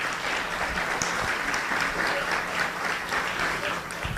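Town hall audience applauding police officers, a steady wash of clapping from a moderately sized crowd, even in level for the whole few seconds.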